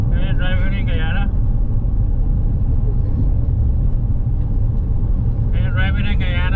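A car drives along a road in Guyana, its steady engine and road rumble running throughout, with voices talking over it at the start and end.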